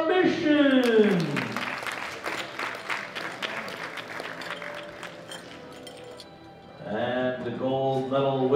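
Applause at a world powerlifting championship medal ceremony for the silver medallist, a scattered patter of clapping under a loud announcer's voice that opens and closes the moment.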